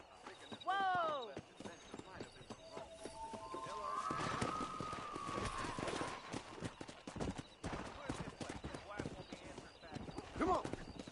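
Horse hooves clip-clopping and galloping in Red Dead Redemption on PS5, a steady run of hoofbeats under a whinny and music, with someone talking over the riding.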